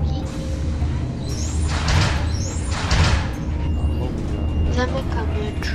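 A bus door in a Roblox game hisses open with a pneumatic whoosh over a steady engine rumble, with faint chimes and talk in the background.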